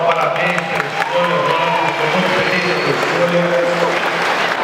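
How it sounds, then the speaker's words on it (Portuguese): Audience applause fills a government inauguration ceremony in Iranduba, a sustained crowd clapping with some cheering, while a voice talks over it throughout. "uma salva de palmas"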